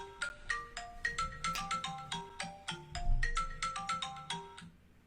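A phone being used as a camera rings with an incoming call, its ringtone playing a bright, rapid melodic pattern of plucked-sounding notes, clear and continuous, with no talking.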